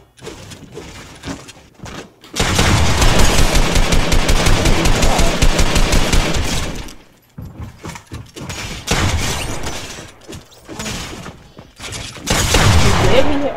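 Rapid automatic gunfire in a 2v2 shooter video game, long sustained bursts of rattling shots with short pauses between volleys, loud and close, no speech over it.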